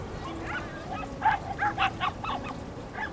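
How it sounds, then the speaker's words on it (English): A pack of hounds bays in the distance near a beach at Yachats, giving repeated short, honking barks in loose clusters that stay faint and far off throughout. "there's what sounds like a whole pack of hounds in the distance."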